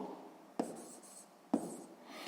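A pen or pencil writes out a sixth-grade math exercise on paper, with two sharp taps and short scratchy strokes close by and no talking.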